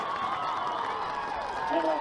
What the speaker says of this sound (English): That Milford crowd right here in front of us, very lively